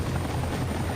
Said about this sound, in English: There's always a chopper.